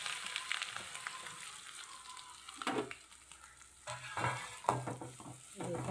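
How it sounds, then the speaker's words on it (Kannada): Masala frying in a pan for a coastal Tulu-style home dish, with a steady close sizzle broken by scraping stirs and a few louder clatters of a spoon against the pan, no talking. "ಈಗ ಇದನ್ನು ಫ್ರೈ ಮಾಡಿಕೊಂಡು ಚೆನ್ನಾಗಿ ಫ್ರೈ ಆದ ಮೇಲೆ ಇದಕ್ಕೆ ಮಸಾಲೆಯನ್ನು ಹಾಕಿಕೊಳ್ಳು"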